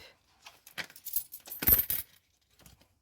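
Soft clinking of a few coins being slipped back into a paper money envelope, a brief cluster of light metallic jingles and rustles, close and quiet with no speech.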